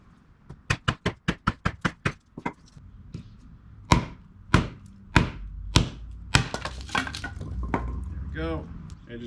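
A knife chops into hard Chinese pistache wood in a run of sharp, loud, evenly spaced strikes. The blows slow into a few heavier, spaced hits, then quicker light taps follow as faint talk comes in near the end.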